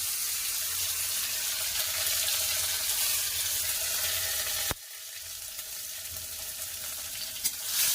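Tomatoes frying in a pan on the stove for a chickpea curry, a loud, steady broadband sizzle that drops abruptly in intensity about two-thirds through, then continues more softly with a brief clatter near the end.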